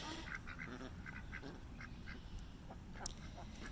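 Ducklings give soft quacks and peeps in short scattered bursts over a steady background hum, close but fairly faint.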